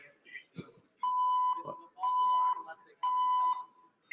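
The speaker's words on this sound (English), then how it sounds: "It's a false alarm." Electronic alarm beeps in an indoor room during a false alarm: three steady, loud half-second tones spaced about a second apart, with brief talk and thumps between them.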